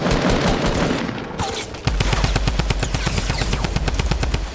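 Automatic gunfire in a squad shooter video game: a burst of noisy shots gives way to a long, rapid, evenly spaced stream of loud rounds.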